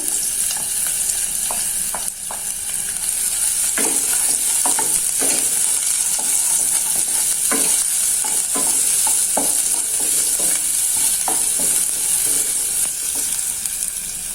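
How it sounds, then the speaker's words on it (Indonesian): Shallots sauté in hot oil for a coconut-milk-free Indonesian dish, giving a steady, loud sizzle close by, with scattered scraping taps of a spatula stirring throughout and no talking. "Nah, di sini sudah saya panaskan sedikit minyak. Ini untuk bawang merahnya saya tumis dulu."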